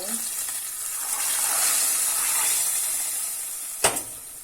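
Burnt mint hits hot soup with a steady hiss and sizzle that swells and fades over a few seconds, ending in one short sharp burst.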